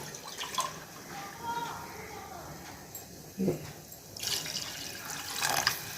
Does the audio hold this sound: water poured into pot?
yes